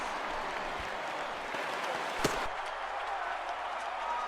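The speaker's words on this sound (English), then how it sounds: "the Giants, once again, win a game in a very unusual way as this crowd goes crazy" Stadium crowd in the MLB 15 The Show baseball video game roars steadily after a walk-off hit in the ninth inning, a dense, continuous wash of cheering and applause with a brief sharp spike midway.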